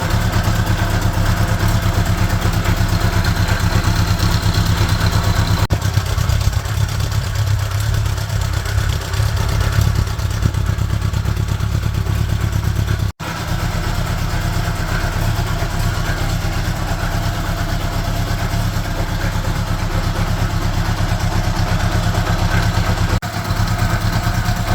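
The flat-four engine of a 1976 Honda GL1000 Gold Wing motorcycle idles steadily up close, a loud, even mechanical rumble with light clatter and one brief dropout partway through.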